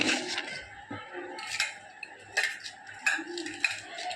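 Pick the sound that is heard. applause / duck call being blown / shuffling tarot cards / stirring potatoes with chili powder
stirring potatoes with chili powder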